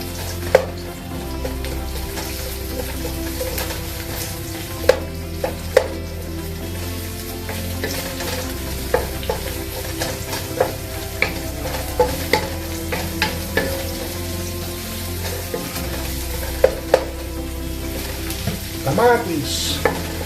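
Onions fry in a pan with a constant crackling sizzle under repeated scraping stir strokes and occasional sharp clinks of utensil on metal, near and steady throughout, with no voices.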